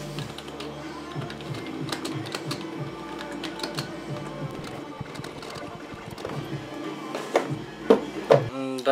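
Typing on a Bloody Q135 backlit keyboard, a dense busy clatter of keystrokes at close range that grows into a few louder, sharper hits toward the end.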